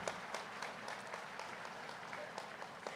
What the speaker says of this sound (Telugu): ఒక్కసారి పత్రిజీ గారికి ఒక్కసారి మనం గట్టిగా చప్పట్లు కొడదామండి